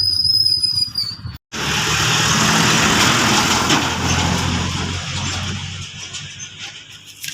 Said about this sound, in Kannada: ನೋಡ್ರಿ ಜ್ಯೂಸಿನ ಗಾಡಿ ಬತ್ರಿ